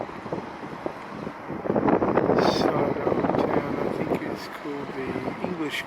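Gusty wind buffets a camera microphone outdoors in the fish quarter of Coquimbo, Chile, producing a low, uneven rumble that strengthens midway, with a person talking underneath.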